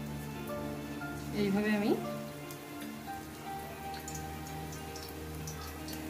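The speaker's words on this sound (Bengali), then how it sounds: "বড়ার মতো করে আর কি ভেজে নিতে হবে।" Prawn kofta balls fry in hot oil with a steady, even sizzle like light rain running throughout, while someone speaks over it.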